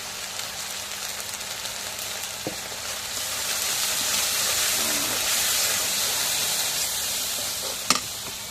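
Turmeric and chili powder sizzle in a hot pan of curry for a fish and taro-stem dish, a steady broadband frying hiss that swells slightly midway, with a brief utensil clink near the end.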